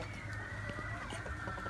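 Gold double laced Barnevelder chickens, two hens and a rooster, cluck softly and continuously close by on a small farm, a faint, steady murmur of fowl sounds with no talking.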